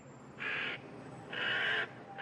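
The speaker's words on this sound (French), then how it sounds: "2 haut-parleurs ont-ils été installés qui diffusent dès la nuit quelques limpides langages, le cri de volatiles attaqués" A loudspeaker bird scarer broadcasts recorded distress cries of attacked birds, two harsh squawking bursts with a pause between them, heard at a distance against a quiet background.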